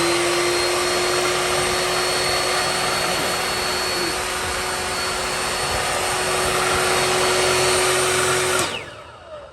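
A pipe threading machine runs with a loud, steady whirring drone and a high motor whine as the pipe spins, then the motor cuts off and winds down near the end.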